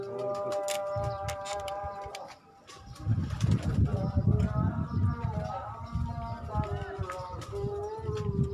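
Rooftop pigeons coo and stir at close range during a pigeon-keeping session, with low rumbling coos and soft rustling movement building after a brief lull, while people talk nearby.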